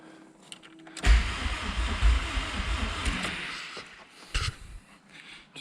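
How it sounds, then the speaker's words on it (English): A Mk3 Volkswagen Golf GTI 1.8 turbo's electric fuel pump whirs steadily for several seconds while priming, with a few clicks and knocks over the running hum. "Fuel pump's running, let it prime a bit."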